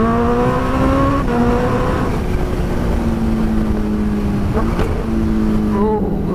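A Kawasaki Ninja H2 motorcycle with a new exhaust accelerates hard through the gears, engine pitch climbing and dropping with quick shifts, loud and close.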